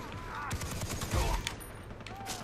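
Gunfire in the shooter Far Cry 3, a continuous rattle of shots and bursts mixed with game ambience and a heavier thump midway, with a voice talking faintly underneath.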